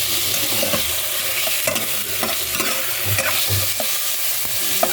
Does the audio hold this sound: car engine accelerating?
no